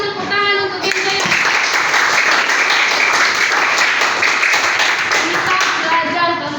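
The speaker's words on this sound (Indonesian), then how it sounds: "Ayo dulu kasih tepuk tangan untuk kita ya." Schoolchildren at an elementary school applaud in class, a dense burst of close clapping that follows a short spoken line and carries on steadily, with a voice returning near the end.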